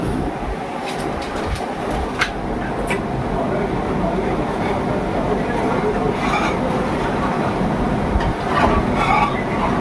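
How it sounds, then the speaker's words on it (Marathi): An air cooler runs in a hot home kitchen where pav bhaji is being made, producing a steady, fairly loud whirring rumble that continues throughout while a person talks over it. "जर तुम्हाला कूलरचा आवाज येत असेल तर सॉरी"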